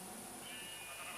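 Sheep bleating in the Minecraft video game, a faint, steady game-audio bleat against a constant background hum with no talking.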